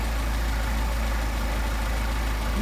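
A Mercedes 190SL engine fitted with Solex 44PHH carburetors idles steadily, a constant low rumble close by that runs unbroken, with no talking.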